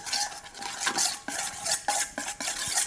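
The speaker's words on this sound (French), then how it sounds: "On va bien mélanger." Utensil stirring a honey mixture for tartare in a bowl, a steady run of scraping and clinking strokes, close and fairly loud with brief pauses between strokes.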